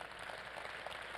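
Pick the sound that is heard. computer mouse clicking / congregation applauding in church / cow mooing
congregation applauding in church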